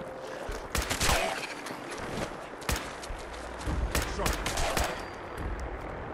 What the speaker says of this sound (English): I just shot that corpse